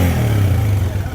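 A running motorcycle engine idles close and loud in a brief low, throbbing burst with a slight rev and clatter, heard alone.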